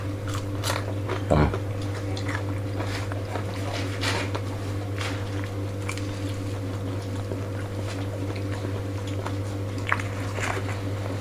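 Crunchy bites into fried pisang uli banana fritters, a few sharp crisp crunches against a steady low hum, close to the microphone.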